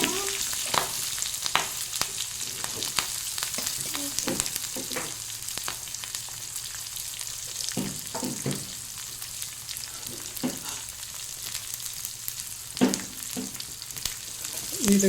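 Steady sizzling of onions and green chillies frying in a tempering in a pan, with scattered crackles and pops and occasional stirring scrapes, no voices.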